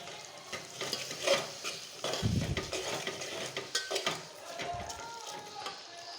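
Gongura leaf paste stirred into frying tomatoes in a pan for gongura onion biryani, with scraping spoon strokes and a light sizzle, close and moderately loud, with occasional clinks of utensils.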